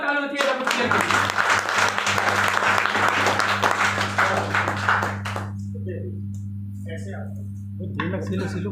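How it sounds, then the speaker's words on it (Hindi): Loud, dense applause from an AWPL business event crowd for the company, steady over a low hum for about five seconds before trailing off into scattered noise. "एक बार जोरदार ताली होनी चाहिए WPL के लिए।"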